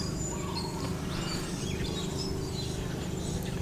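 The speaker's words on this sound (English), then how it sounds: "But the bird trills, beautiful." Birds chirp and trill continuously near a beach on Panglao, Bohol, a steady bed of small calls layered with insect-like buzzing and no voices.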